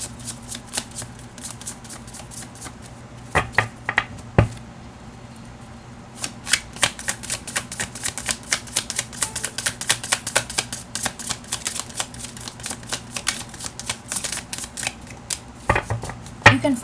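Tarot cards shuffled from a deck, a quiet riffle and then a long run of dense crisp card flutters and slaps, fairly close, with faint background hum and no talking.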